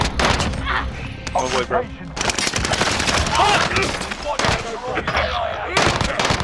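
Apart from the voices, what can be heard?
gunfire in a video game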